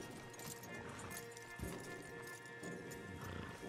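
Horses neighing and hooves clip-clopping in Red Dead Redemption 2 as stallions are led along, a whinny cutting through steady close hoofbeats over a busy game soundscape.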